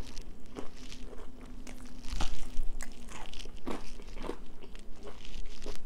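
Crunchy biting and chewing during an at-home mukbang, repeated close crunches and crackles at an irregular rhythm, loud and near, with no talking.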